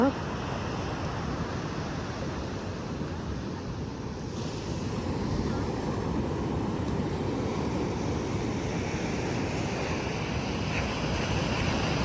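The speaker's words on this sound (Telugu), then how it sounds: "సో ఓడరేవు బీచ్ చీరాలలో ఉన్నాము." Surf rolling in steadily at Odarevu beach near Chirala in the early morning, a continuous broad wash of waves with wind buffeting the microphone throughout.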